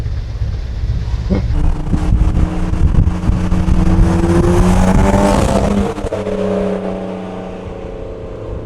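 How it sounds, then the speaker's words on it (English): A BMW M3 engine revs hard and climbs through the gears, loud and close, with wind buffeting the microphone before the engine settles down. "Those M3s sound so good, dude."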